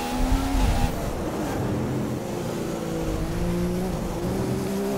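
A Honda-powered Formula 1 car engine in the F1 2015 racing game drones steadily at high revs, its pitch gently shifting and accompanied by a brief louder burst at the start.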